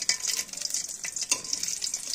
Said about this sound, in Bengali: যদিও ডিম ভাজার জন্য কড়াইটা উপযোগী নয়, তারপরেও প্রয়োজনের তাগিদে এটা করা হচ্ছে